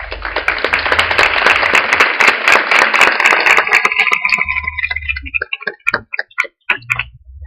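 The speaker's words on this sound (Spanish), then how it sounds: "Les damos un fuerte aplauso." An audience at a school education panel claps, starting as a loud, dense wave of applause that thins after about five seconds into scattered individual claps before fading out.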